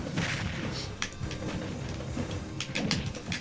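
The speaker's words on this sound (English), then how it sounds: "I often tend to get carried away and get myself in the explosion as well." A Minecraft TNT block blows up in Super Smash Bros, a dull booming burst within busy game noise, followed by a few sharper hits.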